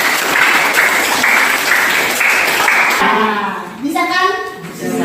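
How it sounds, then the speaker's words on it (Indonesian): Students clap their hands in a junior high school classroom in South Nias, a loud burst of dense applause lasting about three seconds, then children's voices chatter and call out as the clapping stops. "Tepuk tangan."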